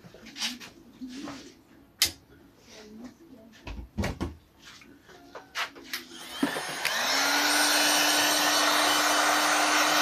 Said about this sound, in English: Warm them up with a heat gun to dry them out.